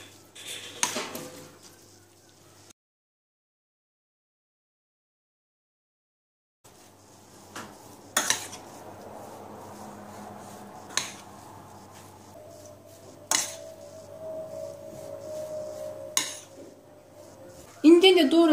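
A spoon stirs pomegranate molasses and oil in a bowl for Antakya-style kısır, with soft scraping and a few sharp clinks against the bowl, close up, broken by a stretch of silence.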